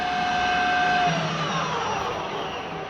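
A Clausing Colchester 13 x 30 engine lathe spindle runs at 2,100 RPM, giving a steady, loud mechanical whir with a thin whine that fades slightly toward the end, with no talking.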